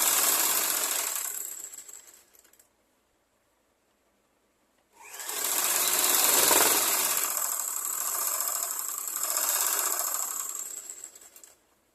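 A sewing machine stitches a blouse, running in a steady mechanical whir for about two seconds, stopping into near silence, then starting again for a longer, louder run that fades at the end.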